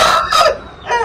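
A close, loud Aseel rooster, a red-coloured cross of an old Reza bloodline, crows once on a rooftop terrace farm, giving a short, strained call broken into a few bursts.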